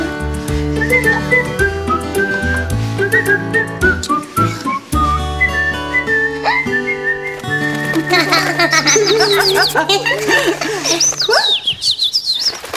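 Someone whistles a lilting melody over a steady musical accompaniment, the whistled notes bright and close, growing busier and more trilling toward the end.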